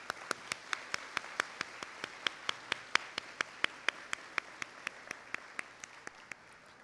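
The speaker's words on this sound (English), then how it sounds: "Students and families, please join me in a round of applause for these individuals." Graduation audience clapping for teachers: a thin, steady run of about twenty evenly spaced claps, sounding distant and fairly quiet, with no voices over it.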